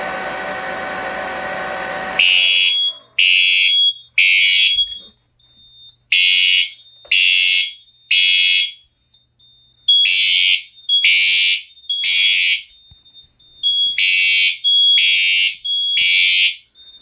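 A Siemens heat detector fire alarm sounds in a steady pattern of loud, high electronic tone bursts, each about half a second long, repeating in groups after a stretch of quieter low sound at the start.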